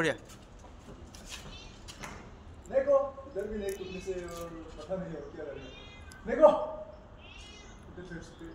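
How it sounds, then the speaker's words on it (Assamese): A cat meows several times close by, drawn-out wavering cries spaced a few seconds apart against a quiet background. "এইটো মেকুৰীটো"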